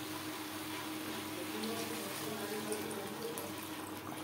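Water pours steadily into a pan of spiced potatoes cooking for a thin tangra fish curry, a soft, even rushing stream heard fairly faint and unbroken throughout.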